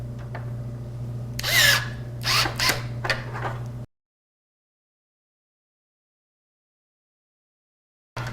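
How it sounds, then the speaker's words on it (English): Electric screwdriver driving screws into a PC case fan in a Cosmos II build, two or three short whirring bursts that cut off early, then a long stretch of silence. "my screwdriver is actually cutting off a little bit early because these are a bit tighter to get into the fan"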